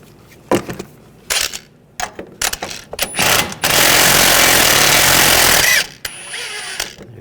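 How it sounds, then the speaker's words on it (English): A loud pneumatic impact wrench hammers in one sustained two-second burst while loosening a front strut nut on a 2009-2017 Volkswagen Tiguan, framed by scattered metallic clanks and tool handling in a garage. "We're going to go back to using the impact."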